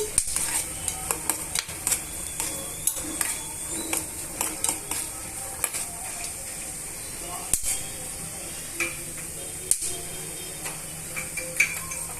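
Chana dal roasting in a pan, with frequent clinks and scrapes of a spoon stirring against the metal over a faint sizzle.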